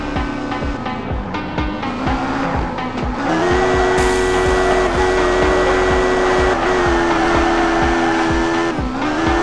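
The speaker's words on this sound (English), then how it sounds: "Let's drift here." Car drifting in the Car Simulator 2 video game: a loud, steady engine drone with rapid gear-like pulses and sustained tire squeal, running continuously without talk.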